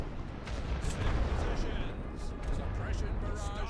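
Heavy artillery fire in the WWI strategy game The Great War: Western Front, a dense rolling barrage of deep booms and rumbling blasts that continues steadily throughout.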